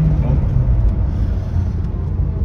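A 2016 Honda HR-V 1.8 automatic AWD driving in sport mode, heard from inside as a steady, loud low engine and road rumble with no distinct gear changes.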